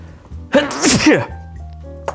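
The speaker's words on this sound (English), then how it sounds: "I have to sneeze." A single loud, close sneeze from a man at a workbench repairing a game controller, a sharp burst over faint background hum, with a brief click afterward.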